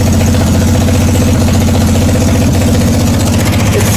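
A 1981 Yamaha XS850 Special motorcycle engine idles steadily on full choke, a loud, close, continuous low throbbing rumble with no talk over it.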